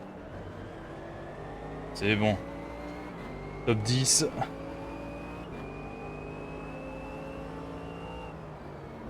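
Race car engines in the Automobilista 2 sim racing game hold a steady rising drone, with a nearby car alongside, while two short bursts of talk break in over the engine note.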